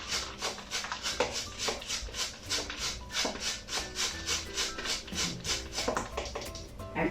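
A whole cauliflower is rubbed against the coarse side of a box grater for a light cauliflower couscous, giving loud, close, rhythmic rasping strokes of about two per second.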